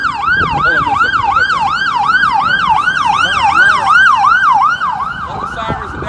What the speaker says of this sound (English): A lot of sirens in Dallas today